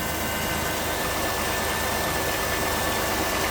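2006 Chrysler Town & Country engine running after an A/C compressor replacement, a steady, even hum with a constant hiss and no grinding, close and continuous throughout.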